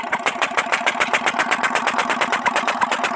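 A 25 HP Peter diesel engine idles right after starting, a steady rapid thumping pulse close by and fairly loud, with no voices.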